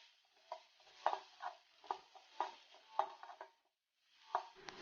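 A spoon scrapes and stirs masala dosa filling in a pan, giving a run of close, rhythmic clinks and scrapes, a short pause, then one more stir.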